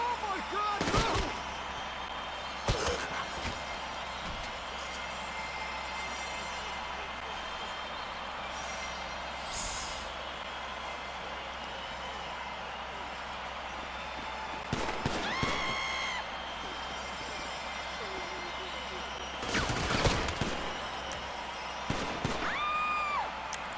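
Bursts of gunfire in the video game GTA 5 Online, scattered sharp shots in several loud clusters with gaps between them, set against a steady low background hum.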